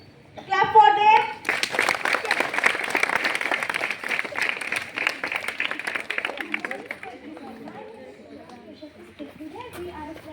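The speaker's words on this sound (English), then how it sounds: "Clap for them." Applause from a school assembly audience for student performers, dense clapping that swells after a brief voice, holds for several seconds, then thins out into chatter and children's voices.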